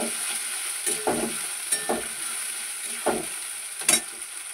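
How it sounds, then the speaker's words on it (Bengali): Tomato with ginger, garlic and green chili paste stir-fried in a pan: a continuous sizzle broken by several distinct scraping strokes of a spatula at irregular intervals, close and fairly loud, with no talking. "টমেটোর মধ্যে আমি এই যে আদা রসুন কাঁচা লঙ্কা বাটা দিয়ে দিচ্ছি। দিয়ে এটাকে ভালো করে কষে নেব।"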